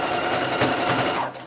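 A sewing machine runs a short, steady burst of rapid stitching close by, sewing a safety seam on fabric before hemming, with an even mechanical whir that slows and stops after about a second and a half.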